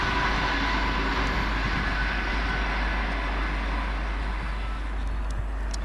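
A Virgin Pendolino express running from Birmingham New Street to London Euston past Lea Hall gives a steady, loud rushing roar with deep rumble, sustained and even throughout without any voices.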